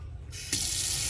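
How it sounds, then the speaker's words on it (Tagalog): Water from an outdoor campsite wash-area sink tap runs in a steady, close hiss that swells louder partway through as the flow strengthens, with no speech. "Ito yung lababo. Tubig check."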